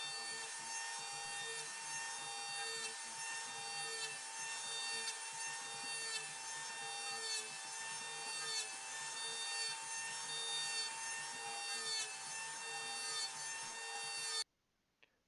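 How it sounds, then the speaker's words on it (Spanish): A hand plane scrapes across a wooden cutting board in long, rhythmic, rasping strokes, close and steady for about fourteen seconds before stopping abruptly, with no talking. "ahora vamos a empezar a cepillar para lograr de que nuestra tabla nos quede lo más pareja posible"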